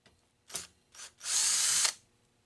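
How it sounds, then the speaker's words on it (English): Power drill backing out screws from a monitor chassis frame on a Nintendo Donkey Kong tabletop arcade game, two brief whirs followed by a longer sustained high-pitched run, close and alone. "So now I'm going to go ahead and remove those 4 screws, and hopefully that chassis just kind of comes off."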